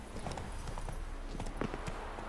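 Faint, rhythmic clip-clop of Roach the horse's hooves in The Witcher 3: Wild Hunt, a quick steady trot of hoofbeats running the length of the short clip under a low background.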